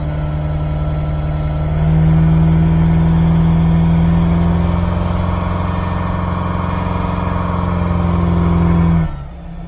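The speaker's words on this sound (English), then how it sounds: "I'm going to roll into it with a bit more throttle" A Holden 355 stroker V8 on a dyno gives a loud, steady engine roar with a strong low hum that rises in pitch and holds under load for several seconds, then abruptly drops away.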